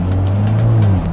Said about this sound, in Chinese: 那因为我车子有改排气管的直通当派哦，所以声音会大声一点点。